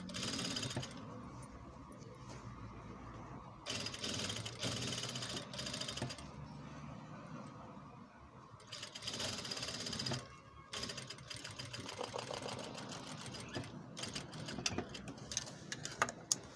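Sewing machine stitching thick djellaba fabric, running in steady rapid bursts of needle strikes with brief pauses between runs, loud and close, no voices.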